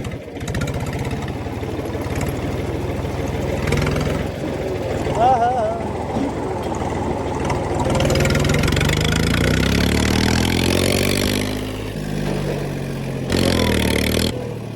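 A tractor engine runs loudly and steadily on a farm trip, its low throbbing rumble shifting in pitch as it works, with voices talking over it.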